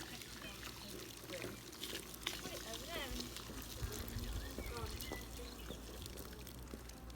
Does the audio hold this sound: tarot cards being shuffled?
no